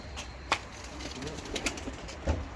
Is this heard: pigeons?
yes